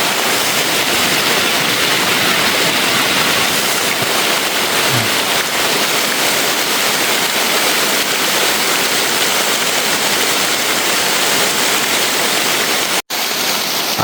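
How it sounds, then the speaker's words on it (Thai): A forest stream rushes and flows in a dense, steady roar of water, loud and close, unchanging throughout with a brief dropout near the end. "น้ำไหล"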